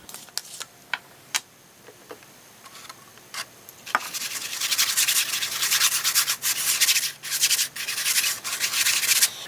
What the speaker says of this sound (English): I'm going to use some inexpensive acrylics and this bristle brush to lay down a quick